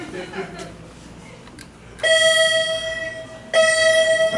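Two clear electronic chimes from a new Kone/MCE hydraulic service elevator ring out, the second about a second and a half after the first, over quiet background noise.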